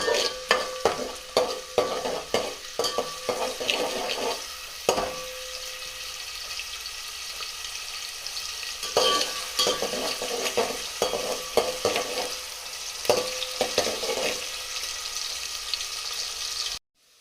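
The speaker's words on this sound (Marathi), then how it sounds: "सुरुवातीला मी बारीक कापलेला कांदा भाजून घेणार आहे" Finely chopped onion fries in a pan for a village-style country chicken dish. A close sizzle runs throughout, broken by repeated clattering stirs and scrapes that come in bursts, with quieter hissing between them.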